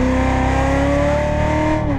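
A Corvette Z06 Stingray on the Exotics Racing Las Vegas track roars at full throttle, its loud, close engine note climbing steadily in pitch as it accelerates hard.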